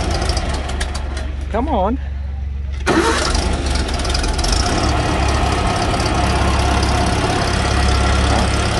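An engine cranks over with the key and choke and catches, settling into a steady, loud idle after a short voice in the foreground.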